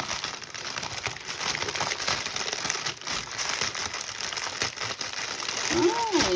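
A plastic bag crinkles and rustles continuously at close range as a gift is stuffed back into it, with irregular crackling bursts and a brief squeak near the end.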